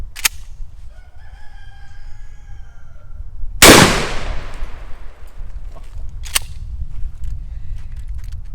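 A 12 gauge shotgun loaded with a cut shell fires once at a can of corn outdoors, a single loud sharp blast with a decaying echo, preceded and followed by a rooster crowing and a few distant clicks over low background hum.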